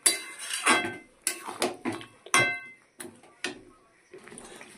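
Vegetable curry with lentil dumplings being mixed in a pot with a spatula, giving a series of close metallic clinks and scrapes against the pot at an irregular rhythm.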